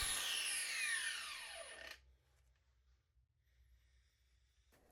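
A Parkside PWSAP 20 Li F6 cordless angle grinder with motor brake spins down from a high whine, its pitch sweeping downward for about two seconds before cutting to near silence, with a faint click at the end.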